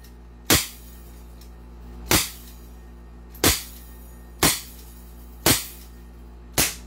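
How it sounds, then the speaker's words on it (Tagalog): Airsoft toy guns firing one at a time in an outdoor review session, six sharp, loud pops spaced about a second apart against a steady low background hum. "Okay, firing, Lucas"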